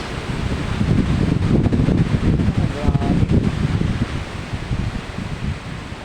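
Strong winds of Typhoon Uwan roar and thrash through trees, a dense, continuous gusting rush with rustling leaves and heavy buffeting against the microphone, loud and unbroken throughout.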